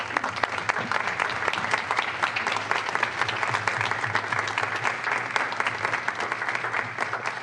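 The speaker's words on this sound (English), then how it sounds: "So I'd ask you to stand up and give them a round of applause." Sustained applause from a room of commissioners and attendees at an Alabama House education committee meeting, honouring visiting students; dense, steady clapping fills the whole stretch with a low hum beneath it.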